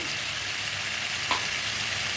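Raw mango pieces frying with panch phoron in a pan for pickle as salt goes in, a close, steady crackling sizzle with one brief sharper pop.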